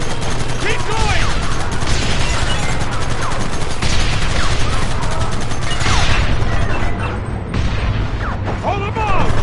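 Dense gunfire in a Red Dead video game shootout, continuous bursts and cracks layered close and loud throughout, with a voice shouting over the battle.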